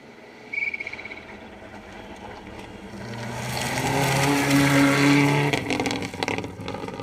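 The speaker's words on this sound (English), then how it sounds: "The familiar burble of the Subaru Impreza." A Subaru Impreza rally car on a gravel stage approaches with its low engine burble, swelling louder as it passes close by and then fading away. A brief higher sound comes just before it.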